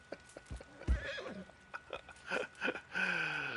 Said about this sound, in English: My horse just took a spill.